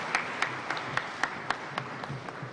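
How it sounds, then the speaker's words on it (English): Audience applause after a president's speech at a national consultative dialogue on small-scale mining in Ghana, heard as faint, sparse claps with distinct sharp hits at a steady rhythm rather than a full ovation. "another resounding round of applause"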